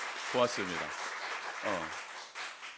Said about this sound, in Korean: 우리 5060 남성분들 위해서 한번 박수 한번 해주셨으면 좋겠어요